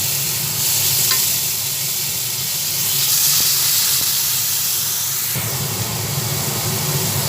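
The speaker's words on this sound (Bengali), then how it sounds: "দুটো একসঙ্গে ভেজে নিচ্ছি জিরে আর গরম মশলাটা" Steady sizzling and crackling of cumin seeds and garam masala frying in hot oil, with a soft stir partway through and no voices.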